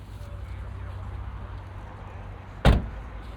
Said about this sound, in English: Can open the door one click.